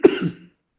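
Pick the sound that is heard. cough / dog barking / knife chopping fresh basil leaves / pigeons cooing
cough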